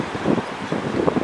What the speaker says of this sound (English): Very windy today.